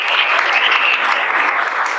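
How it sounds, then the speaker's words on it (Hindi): Steady applause from a room full of people, dense and continuous clapping at an even level throughout. "मानसी के लिए तालियां।"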